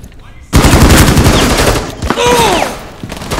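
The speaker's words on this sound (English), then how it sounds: "Oh, he's shooting at the wall." Rapid automatic gunfire in Rainbow Six Siege as a player shoots at a wall, loud dense bursts starting after a brief quiet, with faint whizzing tones near the end.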